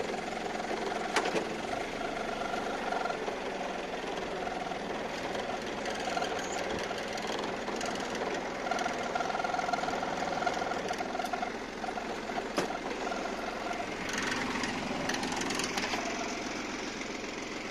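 A small engine on a garden cultivator runs steadily at a constant idle-like pace for the whole stretch, moderately close, with a few faint clanks and no talking.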